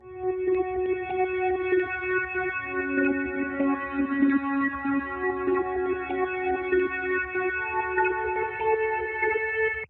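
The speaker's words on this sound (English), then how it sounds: "So the next sound is this background lead," A heavily processed synth lead with effects plays a sustained melodic line of layered harmonic tones, built as a background part for a Latin guitar loop; loud and continuous, with echo and reverb smearing, no talking.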